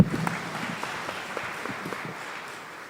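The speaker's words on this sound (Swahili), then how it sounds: "Asanteni wanakwaya, saidieni kuwapigia makofi" Congregation in a cathedral applauding the choir, a soft, diffuse wash of many hands clapping at a distance, steady and fading slightly over a few seconds.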